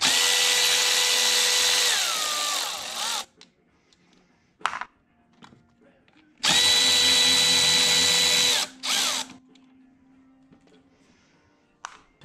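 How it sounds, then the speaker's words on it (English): A power tool driving out 8mm ground bolts on a BMW E46 engine during a valve cover gasket job, two loud sustained whirring runs with pitch dips and short blips between, close and clear, with no speech. "next we're gonna remove our ground bolts here"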